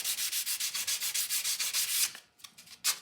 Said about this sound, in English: I'm going to go to that nice, very light sandpaper and just do a little, very light sanding